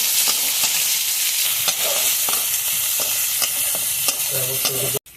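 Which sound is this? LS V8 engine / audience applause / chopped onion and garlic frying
chopped onion and garlic frying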